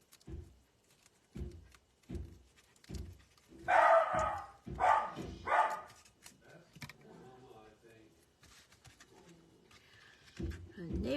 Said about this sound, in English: Neighbors are pounding something against the garbage can. That sets the dog off.